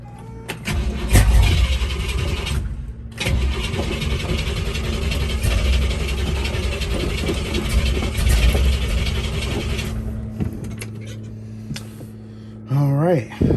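A 1968 Camaro engine cranks, catches and settles into a loud, steady idle with a low rumbling hum that runs for about ten seconds before dropping off, then briefly revs again.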